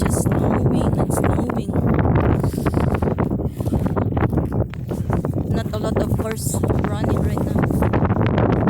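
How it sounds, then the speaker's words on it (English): Strong wind buffets the microphone in a snowstorm during a walk, a loud, constant roaring rush with gusty swells, with a person talking underneath. "Turn against the wind there."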